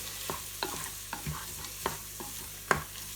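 Onion sautéing in a pan while making a creamy scallop risotto: a soft, quiet sizzle runs underneath, punctuated by irregular clicks and scrapes of stirring.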